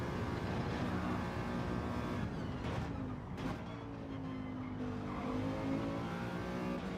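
A race car in Gran Turismo 7 held high in the rev range, a loud continuous engine drone with a brief dip and shift around mid-clip, then steady again, alone without talk.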